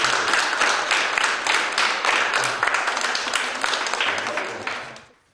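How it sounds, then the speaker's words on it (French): Applause for choir singers at a local event in Le Cateau, a steady, dense clapping from a crowd lasting about five seconds before tapering off abruptly. "Alors là, je vous applaudis. Franchement, vous pouvez vous applaudir aussi."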